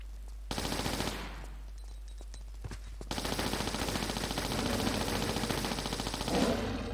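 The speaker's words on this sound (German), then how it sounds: "Und zwar nehmen wir jetzt einfach mal unsere Uzis." Rapid automatic Uzi fire rattles in the Tomb Raider video game. A short burst comes first, then a pause, then a long sustained stream of shots over a constant low background hum.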